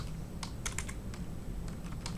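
Someone types on a computer keyboard during an R programming session, giving a brisk run of irregular key clicks at moderate loudness with no talking.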